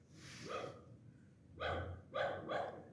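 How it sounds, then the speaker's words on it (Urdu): A dog barks outdoors in a neighbourhood, a few sharp barks spaced irregularly over a couple of seconds, moderately distant with a faint background hum and no talking. "24 گھنٹے یہ کتا بھونک رہا ہے."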